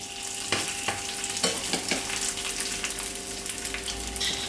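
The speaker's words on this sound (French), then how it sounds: "je les presse légèrement et je les dépose donc dans ma poêle" Tuna patties fry in oil in a pan over medium heat, giving a continuous close sizzle with a few soft taps and scrapes as they are set down, and no voices.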